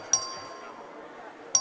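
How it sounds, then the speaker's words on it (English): A voting bell in the Texas House chamber dings twice, about a second and a half apart, each a sharp metallic strike with a brief ring, over a quiet room murmur. "The clerk will ring the bell."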